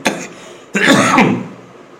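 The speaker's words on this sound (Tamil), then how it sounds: "ரொம்ப இருமல்." Two harsh coughs, a short one followed by a longer, throatier burst, close up with no talking.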